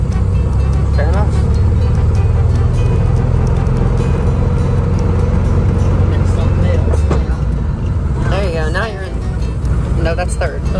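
A 1969 Volkswagen Beetle drives on after a gear change into second, its steady low engine drone and road rumble continuous throughout, with people talking inside the car over it.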